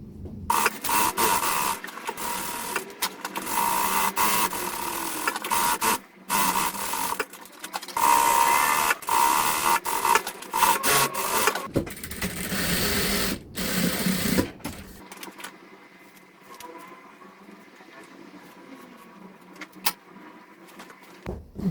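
A sewing machine stitches a seam on a reversible, adjustable apron, running loud and close in steady mechanical bursts with brief pauses, then continuing more softly toward the end.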